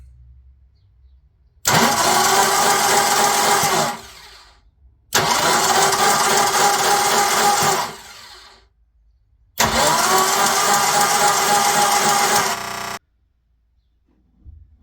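A starter motor cranks a Mk1 Ford Cortina GT engine in three loud, sustained bursts of a few seconds each, separated by short silences, close to the microphone.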